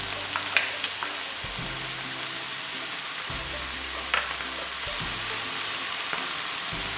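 Aloo keema frying with added crushed chilli, a steady sizzle with occasional scraping and clinking of a utensil stirring the pan, moderately close and without talk.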